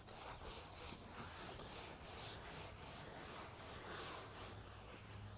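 A clean cotton rag wipes excess Penofin oil off a hardwood deck, making a faint, steady rubbing and scuffing that stays even throughout with no talking.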